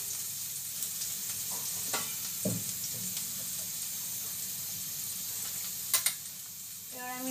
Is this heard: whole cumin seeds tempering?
yes